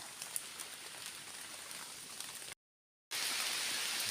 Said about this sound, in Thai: ฝนตกใส่จ้ะ